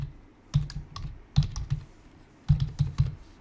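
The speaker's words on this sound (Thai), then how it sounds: "ก็พิมพ์ชื่อเข้าไปครับ" Keys on a computer keyboard clatter in short irregular bursts of several quick taps separated by pauses, close and fairly quiet.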